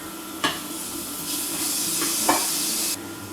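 Ginger tossed into onions already frying in a pan for a prawn and aubergine curry brings a brief utensil knock, then a bright steady sizzle that swells for a couple of seconds before dropping back, close up with no voices.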